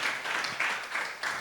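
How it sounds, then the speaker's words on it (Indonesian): A church audience claps for its media team, the applause coming in soft, even swells that rise and fade about every half second, heard from a distance at low volume. "tepuk tangan buat tim ini luar biasa"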